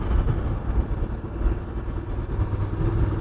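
Voge DS900X motorcycle engine labouring at about 30 mph in fourth gear, a low, rough, steady rumble with uneven pulsing, heard close and continuous with no talking.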